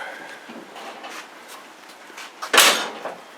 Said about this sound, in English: Door opens and shuts nice.